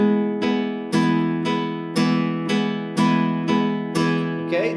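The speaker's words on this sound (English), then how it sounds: "we play rasgueado with only one finger," Flamenco guitar rasgueado strummed with the index finger alone on a Malagueña: close, loud chord strokes at an even pulse of about two per second, each ringing out, with a brief voice at the end.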